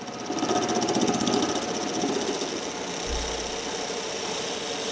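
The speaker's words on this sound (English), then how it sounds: "I'm going to take a thin parting tool and just part in a ways" A lathe spins a cast resin bowl while a thin parting tool cuts into it, giving a steady, loud mechanical whir with a rattling vibration throughout. No speech is heard.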